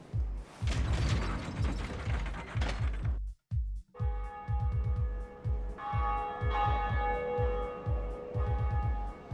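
A bell ringing in the video game Dark Souls. A steady, rhythmic metallic clanking runs throughout, and after a brief dropout sustained ringing tones swell over it.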